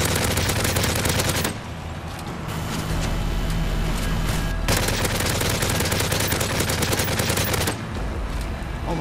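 Rapid automatic gunfire from the video game Modern Warfare 3 in survival mode, with loud, dense bursts that run almost continuously and break off only in short pauses.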